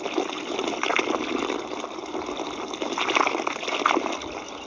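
Water flows steadily onto grass in hot weather, a soft continuous gushing and trickling close by, with gentle swells in volume and no voices.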